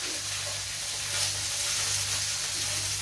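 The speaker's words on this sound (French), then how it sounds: "Je suis en train de faire revenir les haricots dans la poêle." Green beans and garlic sauté in a frying pan, a continuous close hissing sizzle with soft stirring movement and a slight swell midway, no voices.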